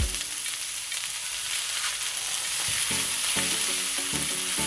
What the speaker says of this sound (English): Reduce the heat. And just let that saute nicely.